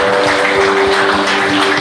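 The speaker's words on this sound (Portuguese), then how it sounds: "Aplauda ao Senhor." A church congregation claps together in dense, continuous applause that stays loud and even throughout, with no voices standing out.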